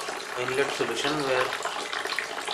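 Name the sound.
water flowing into RO membrane cleaning inlet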